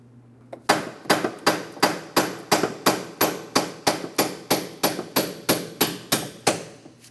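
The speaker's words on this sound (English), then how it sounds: "and a hammer. A couple light taps here." Hammer taps on a CV axle bolt during front axle replacement on a 2004-2008 Pontiac Grand Prix 3.8L V6, about sixteen evenly spaced sharp metallic strikes, close and fairly loud, with no talking.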